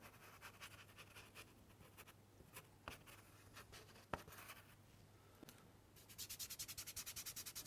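Soft pastel rubbed along a tree shape on paper in a woodland drawing, a steady near dry scraping that quickens into fast rhythmic strokes at the end.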